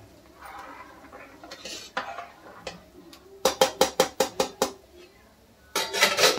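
Prawn and green pea pulao being stirred with kasuri methi in a pot: a spoon scrapes and clinks against the metal, with a rapid burst of sharp taps and a final clattering scrape.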